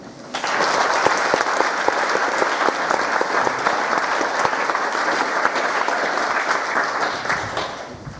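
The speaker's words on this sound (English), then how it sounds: "please give a big round of applause for Ella" An audience at a school honours assembly breaks into sustained applause, a dense, even wash of many hands clapping for several seconds before tapering off at the end.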